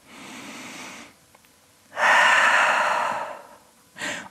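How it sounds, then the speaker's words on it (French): A slow, deep breath during a yoga session: a long, loud exhale or inhale after a quieter breath, then a short breath, each standing alone with quiet gaps between them. "Grande respiration de nouveau."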